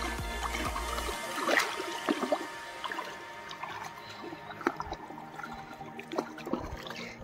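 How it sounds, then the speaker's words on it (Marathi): Creek water flows and trickles near a coastal inlet, a close, steady babble with small splashes and drips scattered throughout. "पाणी वाहत आहे"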